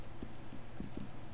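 Horse hooves clip-clopping in Red Dead Redemption 2, a few soft muffled steps over a low ambient game background.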